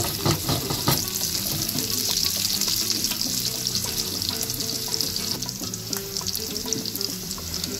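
Garlic and confit lamb sweetbreads frying in a pan, a loud, steady sizzle with bursts of crackle and stirring scrapes running throughout, no voices.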